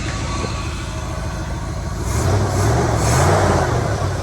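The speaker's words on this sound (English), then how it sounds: "The engine running, sounds good, it's a good clean idle, it takes throttle really well." A 1972 Chevy big block 3/4 ton truck idles with a low, steady rumble, then swells a little louder partway through before settling back.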